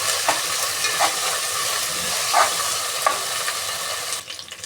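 About 30 grams of ginger paste frying in a pan for khichdi, a dense continuous sizzle close by with a few soft stirring scrapes, no voices.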